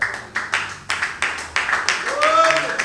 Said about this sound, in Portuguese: Bate as palmas bem alegre para Jesus Cristo.